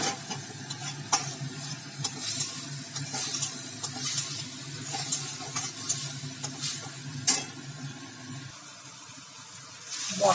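Spice masala for a fish curry sautés in a pan, a low crackling sizzle with intermittent sharp stirring clinks and scrapes, moderately quiet, the sizzle easing toward the end.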